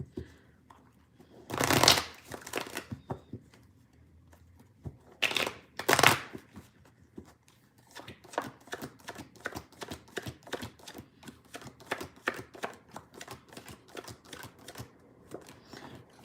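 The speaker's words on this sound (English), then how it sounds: "None" Tarot cards are shuffled close up: two loud riffle bursts, then a long run of quick, crisp flicks and snaps as the deck is worked by hand, with no talking.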